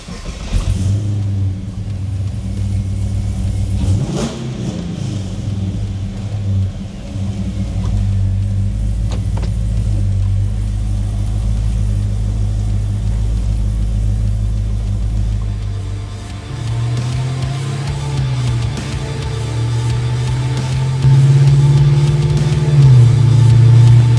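A 1970 Oldsmobile Cutlass with a 495 LS3 V8 and six-speed automatic drives along with a steady, deep engine rumble. Revs rise and the note grows louder toward the end, with no talking.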